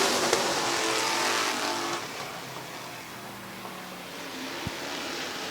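Race cars on the Midvale Speedway oval give a sustained engine roar that fades slightly as they move away, then swells again near the end.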